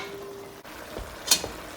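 Eight garlic cloves sizzle and get stirred in a pot of Texas chili, a soft frying hiss with a couple of clinking stirs near the end.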